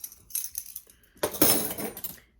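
Small stainless steel stirring spoons, tiny teaspoon-sized and marked Korea, clink lightly as they are handled: a few soft taps first, then a brighter, denser jangle of metal on metal up close, with no talking.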